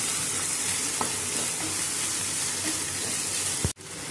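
Red chilli sauce, soy sauce, black pepper and salt being stirred together in a hot pan, a continuous loud sizzle with a few faint scrapes and a sharp knock near the end, no talking.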